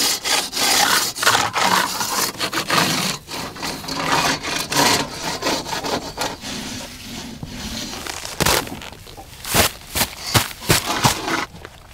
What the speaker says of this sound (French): Une fois sec, frotte les bords qui dépassent avec le rabot.